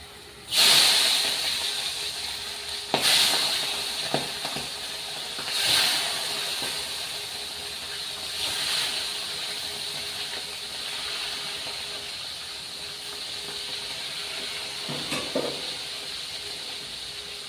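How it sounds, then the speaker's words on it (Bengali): A rohu fish head fries in a pan as the base for mung dal, giving a steady, close sizzle with sharp hissing bursts as the oil spits, and no talking. "এখানে আমি রুই মাছের মাথা দিয়ে একটু মুগের ডাল করবো, তো মাথাটা ভাজতে বসিয়ে দিয়েছি।"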